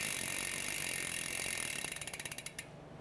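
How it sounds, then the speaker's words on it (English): Mountain bike chain and freewheel being back-pedaled while a rag wipes off excess chain lube: a close, steady ratcheting whir that breaks into distinct clicks slowing and spacing out before stopping. "take a rag and you're going to back pedal a little bit to wipe off the excess chain lube"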